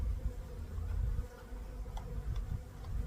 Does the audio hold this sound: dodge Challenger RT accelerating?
no